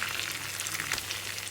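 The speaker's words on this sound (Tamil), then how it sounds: "மீதம் இருக்கிறதே நம்ம அழகாக இதில் போட்டு பொரிச்சு எடுத்துக்கலாம்." Chicken pieces fry in hot oil for garlic fried chicken, a dense, steady close-up sizzle and crackle that runs without pause, then cuts off abruptly.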